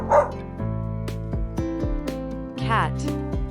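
Dog barks and yips ring out over a loud musical backing with thumping beats, several short barks spaced across the passage.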